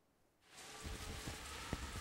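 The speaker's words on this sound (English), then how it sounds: "I think I forgot to pause the rain at that moment." Steady rain hiss in the video game Metal Gear Solid 2, Tanker chapter, sets in after a quiet start, with scattered low thuds and a sharp tap partway through.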